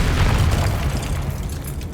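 A Confringo spell blast in Hogwarts Legacy erupts as a deep, booming explosion that hits hard at the start and rumbles away over about two seconds.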